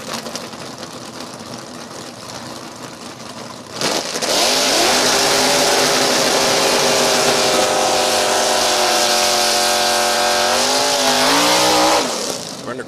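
A 1969 Camaro drag car with a 427 aluminum-headed big block in AA stock automatic trim launches at an NHRA Division 4 meet. Its loud engine roars up through the gears for several seconds, then cuts off sharply.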